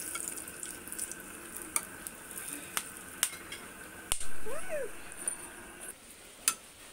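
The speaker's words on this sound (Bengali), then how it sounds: "আমি ওই তেলটার ভিতরে এবার তেজপাতা, লং আর দারচিনি, এলাচ সবগুলো দিয়ে দিলাম" Bay leaf, cloves, cinnamon and cardamom fry in hot oil for prawn pulao, making a light continuous sizzle broken by sharp pops and crackles at irregular moments.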